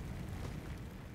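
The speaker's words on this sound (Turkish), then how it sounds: "Büyük bir patlamayla geri döndü." A loud explosion in the video game Fallout 4, heard as a dense, sustained rumbling roar that fills the whole short moment without any break.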